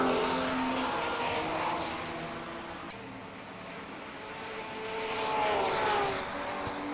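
GT race cars at Fuji Speedway in a revival series race, engines roaring steadily past at a distance, rising and falling as the pack approaches and passes, with no talk.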